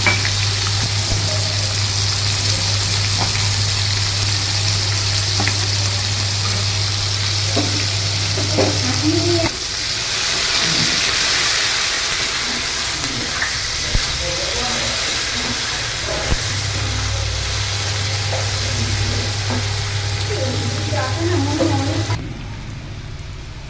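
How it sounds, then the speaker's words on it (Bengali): Chopped onion fries in hot oil with white cumin, giving a steady close sizzle and hiss with occasional stirring scrapes. The frying briefly quietens partway through, then picks back up. "পেঁয়াজটা দিয়ে দিলাম।"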